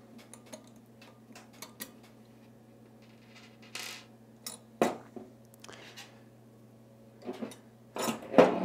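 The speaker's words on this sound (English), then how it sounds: "We'll take the pin out." Metal clicks and ticks come from pulling the pin out of a kinetic water ram drain opener during repair, with scattered sharp taps and a few louder clanks near the end over a low steady hum, no talking.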